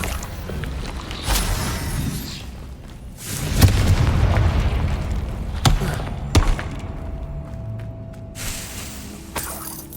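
Confringo blasting spells explode during a Hogwarts Legacy fight. Heavy booms and thuds are followed by sharp cracks and scattered impacts, loud and close, with no talking over them.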